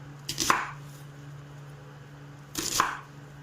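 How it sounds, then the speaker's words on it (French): A large knife roughly cuts through a lamb shoulder, two distinct chopping thuds a couple of seconds apart, close and fairly loud against a quiet hum. "Donc, maintenant, je vais prendre le méga couteau."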